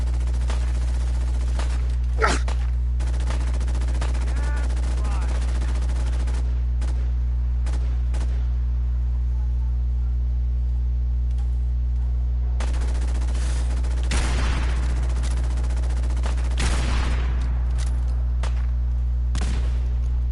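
Scattered gunshots in Fallout 4, several sharp separate cracks spread through the clip over a low steady hum, some close together near the middle and end, with no voices.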